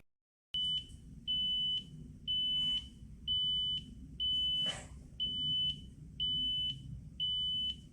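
Edifier X2s earbuds emit a series of eight regular, high-pitched electronic beeps, evenly spaced about every 0.6 seconds, with a brief rustle partway through and low room noise underneath.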